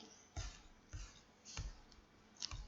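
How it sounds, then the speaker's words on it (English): Computer mouse clicks while inserting an image into a presentation slide, four or five soft, close clicks spaced roughly half a second apart, faint and alone. "So I just click that and I click insert."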